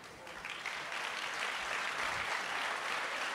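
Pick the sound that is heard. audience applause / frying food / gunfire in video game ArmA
audience applause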